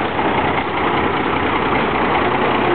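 A 1952 White tow truck with a 5.9 Cummins diesel drives up, its engine running steadily and loud throughout, a constant low rumbling drone with no voices.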